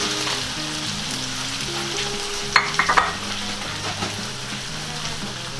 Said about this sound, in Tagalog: Hahaluin lang natin ng konti.